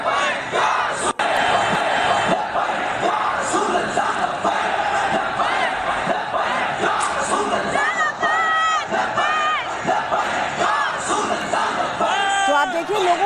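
A dense crowd of TLP protesters roars and chants through the streets of Pakistan, loud and continuous, with individual shouts and whoops rising above the massed voices.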